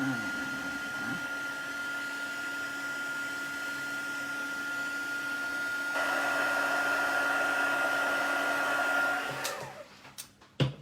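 A hair dryer blows steadily on freshly painted stripes, a continuous whirring drone that grows louder partway through as it is moved closer, then cuts off with a few soft clicks and handling knocks at the end.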